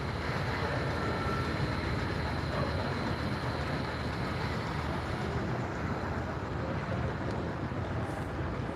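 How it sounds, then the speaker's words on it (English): A long narrow gauge model train runs steadily on a 3-foot gauge layout at a convention, its continuous rolling rumble holding level throughout, with faint background chatter. "we'll see this really long narrow gauge train first"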